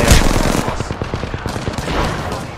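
Rapid bursts of automatic gunfire in a video game battle royale, loud and close, with dense rattling volleys stacked over one another in quick succession.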